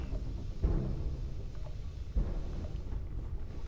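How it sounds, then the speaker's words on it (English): Thunderstorm ambience in Starfield, with a steady wash of rain and wind and two low rumbling thunder swells, the first near the start and the second a little past the midpoint. "Looks like the storm is still going on"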